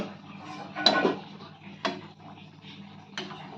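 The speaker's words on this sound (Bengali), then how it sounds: "এবার আমি ঢাকনাটা তুলে ফেললাম।" A pot lid lifts off a pot of boiling papaya in a home kitchen, giving a few light metallic clinks and a soft clatter, close and fairly quiet over a low background hum.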